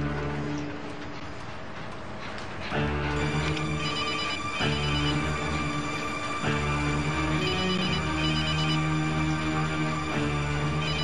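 A mobile phone rings with a melodic ringtone that repeats steadily for several seconds, loud and close, in an indoor household scene.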